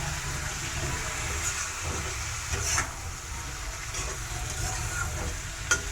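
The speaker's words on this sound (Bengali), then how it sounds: "এখন একটু ভালো করে এগুলোকে ভেজে নেব এখন এর মধ্যে দিয়ে দিচ্ছি কেটে রাখা বেগুন" Cut eggplant goes into a pan of mixed vegetables frying in oil, producing a steady, close hiss with a couple of soft clatters.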